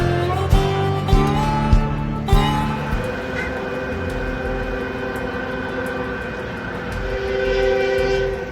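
A freight train rumbles past up close, with several loud horn blasts at the start, then a steady heavy rolling drone that swells again near the end.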